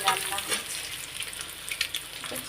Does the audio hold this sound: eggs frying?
yes